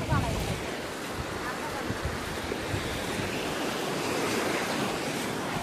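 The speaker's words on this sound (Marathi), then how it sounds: "हा बघा समुद्र किनारी खवळलेला आहे. आणि ह्या लाटा बघा." Rough sea waves crash on the shore at Malvan, a continuous loud roaring wash of surf with heavy wind buffeting the microphone, and no voices heard.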